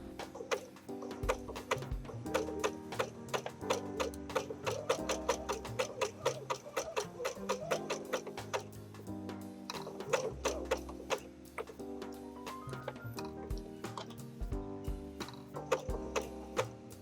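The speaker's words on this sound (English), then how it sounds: "just lift the presser foot and turn the fabric and then continue sewing" A sewing machine stitches appliqué fabric fused with double-sided fusing, its rapid needle ticking running steadily and close throughout, with a few brief pauses where the work is turned.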